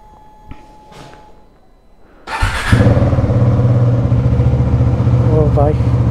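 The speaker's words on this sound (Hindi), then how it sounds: "तो भाई जल्दी से एक बार कोल्ड स्टार्ट करते हैं एक बार।" A KTM Duke 390 motorcycle cold-starts close by: a few faint clicks, then the engine catches abruptly and settles into a loud, steady idle that runs to the end.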